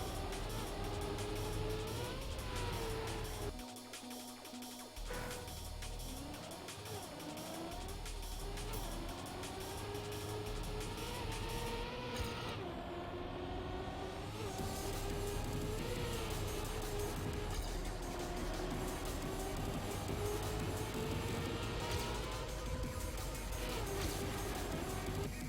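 A race car engine in Trackmania drifting through corners, continuous revving that rises and falls in pitch with a brief dip, steady and close throughout.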